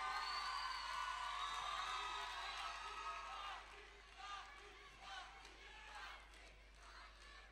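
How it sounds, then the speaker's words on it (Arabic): An audience cheers and whoops at the Miss Egypt 2018 final, a dense roaring crowd that is loud at first and then settles into scattered shouts and applause. "صوت الجمهور."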